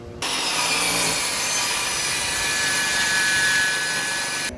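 A power saw cuts steadily through wood trim at a 45-degree angle for several seconds, a loud continuous whine with a rough grinding edge, close by and without talk.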